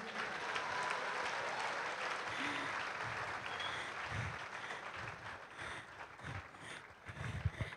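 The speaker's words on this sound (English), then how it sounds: "I think it's all only fitting that we give another round of applause for Ezemo" Faint, steady applause from an audience at a conference event honouring a speaker, a distant crowd clapping throughout with some low rumbling handling or wind noise underneath.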